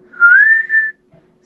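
A single clear human whistle, one rising then sustained tone broken briefly before fading out, performed alone by a voice imitating a whistling sound with no talk.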